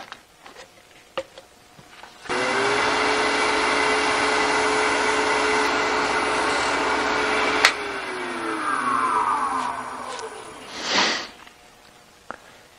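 Miniature wooden bowl spinning on a lathe while friction polish is worked in, a steady loud broadband rubbing hiss that starts abruptly, holds for several seconds, then wavers and swells briefly before stopping.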